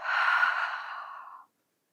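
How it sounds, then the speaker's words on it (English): A single deep breath is exhaled through the mouth, a close, soft airy sigh lasting about a second and a half before silence. "And taking a deep breath in and exhaling through the mouth."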